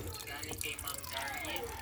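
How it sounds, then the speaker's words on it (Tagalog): Water pours into a washing machine during its rinse cycle, a continuous splashing trickle with drips, heard close and fairly quiet. "Yan o, pumasok yung tubig."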